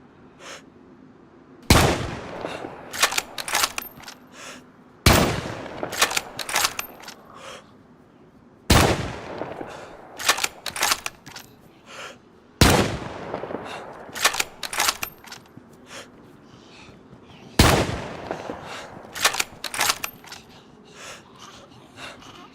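Gunshots crack out in DayZ, five sharp, loud bursts spaced a few seconds apart, each a cluster of quick shots followed by a decaying echo over a quiet outdoor background.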